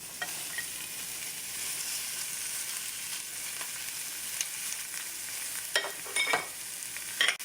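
Onions and poblano peppers fry in oil over medium-high heat, a steady broadband sizzle running throughout with a few louder crackles and stirring clatters near the end; no voices.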